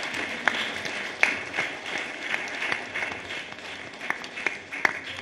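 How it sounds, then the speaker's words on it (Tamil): An audience applauds teachers at a school gathering in a steady, moderately loud wash of clapping, with a few sharper claps standing out over the crowd. "அவர்களுக்கு ஒரு கரகோஷம் எழுப்புமாறு கேட்டுக்கொள்கின்றேன்"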